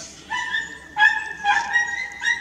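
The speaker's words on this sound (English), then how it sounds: "Oh, dogs." Dogs bark and yip in a few sharp, close bursts spaced about half a second apart, with no voices.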